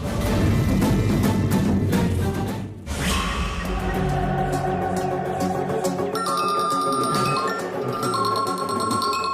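A phone ringtone rings in a Tamil TV serial scene: a loud musical tone with repeated bright beeping notes over a busy background, with no one talking.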